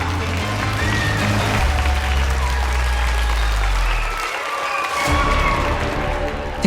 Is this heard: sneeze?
no